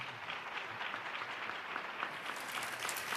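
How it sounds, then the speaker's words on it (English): Audience applause at a seasonal holiday concert, a steady wash of many hands clapping loudly and evenly throughout with no break. "let's give everyone a round of applause"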